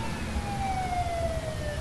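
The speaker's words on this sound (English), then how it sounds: "There's an awful lot of sirens in my city." Emergency sirens in the SimCity city-building game wail as one long, slowly falling tone over a dense, steady rumble of city noise, moderately loud with no voices.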